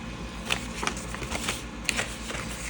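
Close, dry clicks and brief scratchy swipes of paper being trimmed for a 5x3 Simple Stories cider-and-donuts mini tag album, several irregular sharp ticks over a steady low room hum, with no talking.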